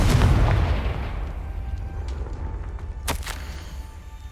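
A Confringo spell blast in Hogwarts Legacy lands as a heavy boom that rolls off into a fading rumble, followed by a couple of sharper crackling pops near the end.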